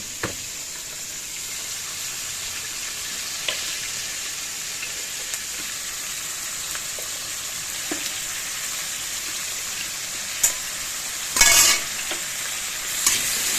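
Potatoes fry in oil with a soft, constant sizzle, punctuated by occasional clinks and a louder scrape of stirring near the end.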